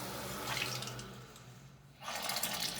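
Water runs from a kitchen faucet through a Pur Maxion filter, a steady close hiss that eases briefly and then surges back stronger.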